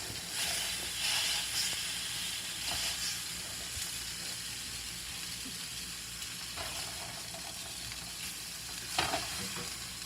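Cube steak frying in hot oil for black pepper gravy, a steady close sizzle and hiss with occasional bursts of spatter and faint stirring, no voices.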